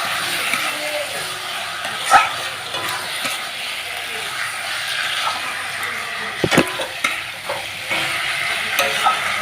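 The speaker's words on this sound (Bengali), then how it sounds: "মানে আমি মাংসটা মিশিয়ে দেবো" Meat being stirred and fried in a pan alongside potatoes, a steady sizzle broken by a few sharp scraping knocks of the spoon against the metal, close and fairly loud, with no talking.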